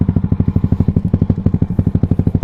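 A Yamaha Aerox 215cc scooter ridden along a road, its engine thumping in a fast, even, close pulsing rhythm with rattling clatter throughout.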